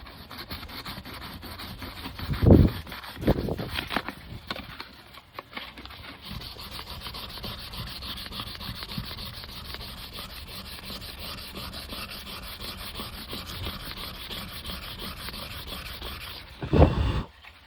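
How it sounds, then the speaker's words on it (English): Continuous rhythmic sanding rasps back and forth across a BMW 135i coupe's paint, steady and fairly close, with a few louder scraping bumps near the start and end. "it's going to take me a while to sand this down"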